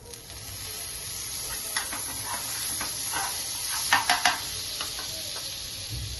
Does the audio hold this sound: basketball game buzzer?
no